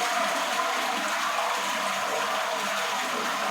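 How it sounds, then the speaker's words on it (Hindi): Water steadily refills a toilet flush tank through a newly replaced connection pipe, a continuous even hiss and rush of flow holding at one level without a break. "फ्लश में पानी अभी भर रहा है, फ्लश का अंदर भी पानी चल रहा है"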